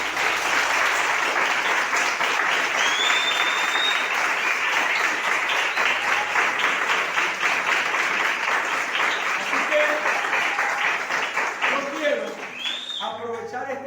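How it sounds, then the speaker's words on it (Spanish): Sustained congregational applause for God during a Spanish-language church discipleship teaching, dense and steady throughout, with a few whistles and voices rising near the end as it fades. "Yo quiero que usted le brinde un aplauso a Dios."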